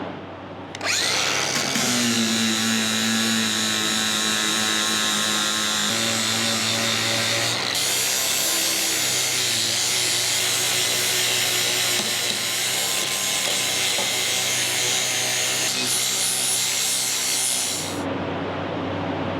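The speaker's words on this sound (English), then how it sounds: "So I'm gonna grab a flap disc, get everything cleaned up, including the top of the bucket, and we'll get ready to weld." Angle grinder fitted with a flap disc grinding the metal of a tractor bucket to clean it before welding, a loud continuous high whine running steadily for about sixteen seconds, with a brief dip partway through and no talking.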